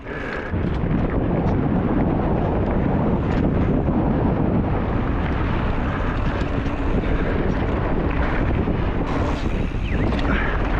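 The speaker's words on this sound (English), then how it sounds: "The wind dropped a fair bit." Wind buffets the microphone at the Kookaburra Crest race track, a loud, continuous broadband roar with rumbling gusts that barely lets up, with no talking.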